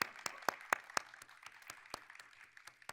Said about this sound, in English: So I'd like to ask a round of applause for this team.